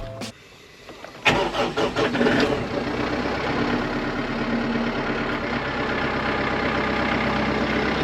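The engine of a Checchi & Magli transplanter tractor on a farm cranks and starts with a sharp clatter, then settles into a steady, loud mid-pitched idle as it warms up.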